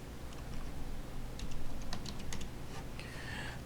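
Several light, scattered keystrokes on a computer keyboard sound as text is typed, fairly soft against a steady low background hum.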